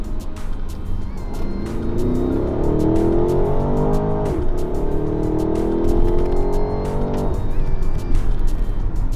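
A BMW X7 M50i drives under load, its engine note climbing and holding in strong, close, steady tones with gear changes and road noise throughout; no voices.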